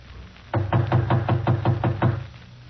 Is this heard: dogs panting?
no